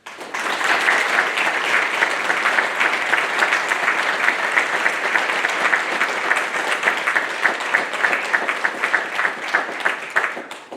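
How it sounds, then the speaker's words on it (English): Sustained applause from a graduation audience of families and friends honoring newly promoted Navy third class petty officers at a Nuclear Field A School ceremony, dense steady clapping throughout with no talk. "please join me in a round of applause for the Navy's newest 3rd class petty officers"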